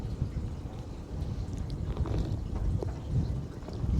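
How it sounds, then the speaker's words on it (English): Strong outdoor wind buffets the microphone in steady, broadband gusts during work connecting a trough to an IBC bowser, loud and continuous with no voice. "So it's quite a bit of wind today."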